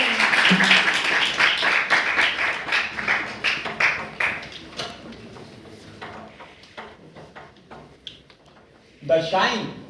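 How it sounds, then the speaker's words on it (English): A round of applause from an audience at a student speaking event, starting with fairly dense clapping that thins into sparse scattered claps, then a brief louder burst near the end. "Please give a round of applause."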